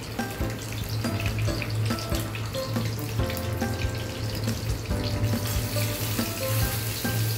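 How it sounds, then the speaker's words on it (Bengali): Fish sizzles in hot oil in a frying pan, a steady close crackle and hiss that carries throughout with no voices over it. "এখন তেলটা ফ্রাই প্যানে দিয়ে দিচ্ছি। তেলটা একটু গরম হলে মাছটা সবগুলো আমি দিয়ে দিচ্ছি।"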